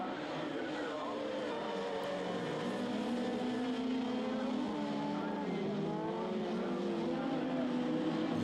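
Rallycross race cars roar and whine as they battle around the Melk circuit in a 2009 FIA European Rallycross round, engines rising and falling continuously at a distance, heard alone without talk.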